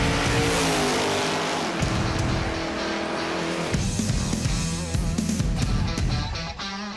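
Cars revving at a smoky burnout contest during the Year One Cup car show: loud, continuous engine roar with rising and falling revs and squealing tires, close and sustained throughout.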